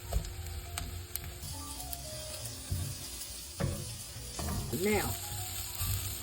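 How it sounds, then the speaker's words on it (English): Spaghetti toasting with onion in butter and oil, browning in a pan, gives a faint steady sizzle with light clicks and stirring scrapes, while a voice speaks briefly over it. "we want to toast the spaghetti"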